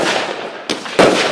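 Professional finale fireworks bursting at a home fireworks show, with a steady crackling roar and two sharp, loud blasts near the end, close and intense.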